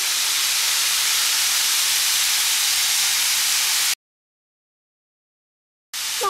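Chicken meat sizzling in a hot pan after a dusting of flour, a steady loud hiss that cuts out abruptly, then resumes briefly.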